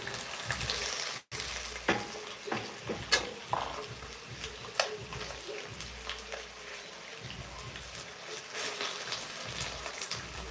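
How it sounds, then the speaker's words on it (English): Reddish potatoes sauté in a pan, producing a soft, steady sizzle with intermittent scraping and clicking as they are turned, at moderate distance and fairly quiet. "I'm sauteing the reddish potatoes"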